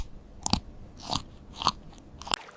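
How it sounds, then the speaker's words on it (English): A symphylan chews through tough root cell walls, heard as a handful of crisp, close crunching bites spaced about half a second apart against a quiet background. "Their mouthparts are adapted for chewing, allowing them to grind through tough cell walls of roots."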